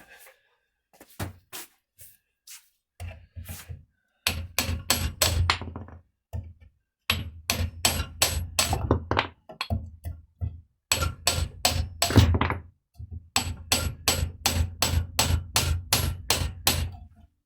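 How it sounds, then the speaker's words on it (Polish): Rapid metallic hammer blows ring out in dense bursts, two hammers striking in quick alternation, separated by short pauses, loud and close. "Teraz wezmę tutaj dwa młotki,"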